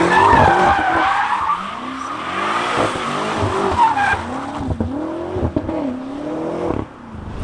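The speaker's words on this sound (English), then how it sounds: "Burns out in third gear on this car." BMW M5 with about 700 horsepower in two-wheel-drive mode spinning its tires in third gear, a loud continuous squeal wavering over a revving engine for several seconds before easing off.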